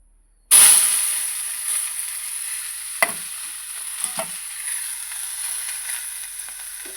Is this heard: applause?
no